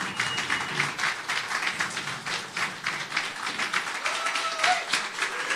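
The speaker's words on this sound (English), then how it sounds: "give the biggest and loudest applause one more time" Audience applause for the president of Liberland at a ceremony in Novi Sad, steady and moderately loud clapping from a crowd, continuous throughout with light texture.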